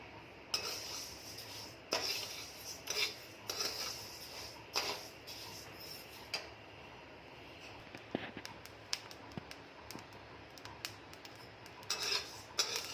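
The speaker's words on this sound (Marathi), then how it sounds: "आता यामध्ये मी बाजरी घालत आहे बाजरी पण मी थोडी क थोडी थोडी करून भाजून घेत आहे" Pearl millet grains dry-roasting in a pan for thalipeeth bhajani flour, stirred with a utensil that scrapes and rattles against the metal in irregular bursts, fairly faint, with no talking.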